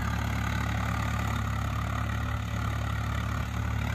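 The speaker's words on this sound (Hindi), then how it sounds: "और अभी ट्रैक्टर स्ट्रगल करेगा यहीं पे।" A Swaraj 855 FE tractor drags a laser land leveller across a field, its diesel engine a steady, loud, close drone that labours under load with no break for the whole stretch.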